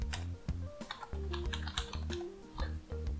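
Someone types a password on a computer keyboard, a quick, close run of clicking keystrokes with brief pauses between bursts.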